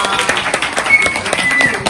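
Audience clapping at a magician's show during an Eid festival in Sweden, a brief steady burst of many hands with a faint whistle-like tone over it.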